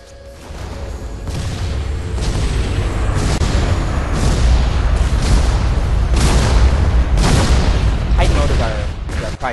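A Titan reactor core blowing up in the video game Battlefield 2142, heard as a sustained rumbling series of loud booms and blasts that swell and roll on for several seconds, with a synthetic announcement voice over it.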